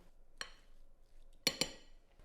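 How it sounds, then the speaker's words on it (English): Cutlery clinks against a bowl while spring onions, grated mature cheddar, salt and black pepper are mixed together: one light tap, then two sharp close clinks about a second later, with no talk. "Now mix all that together to thoroughly combine."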